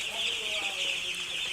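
Chickens huddled together on a rainy day give low clucks, faint and close against a steady hiss of rain.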